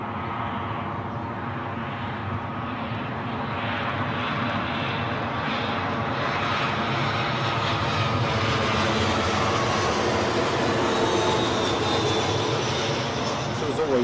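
A small Airbus airliner arriving at London Heathrow from Munich rumbles with a loud, sustained engine roar that swells slightly as it creeps in, while a voice talks over it.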